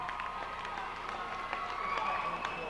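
A high school boys' basketball crowd cheering and clapping after a slam dunk, a dense, fairly faint roar of applause and shouts filling the gym.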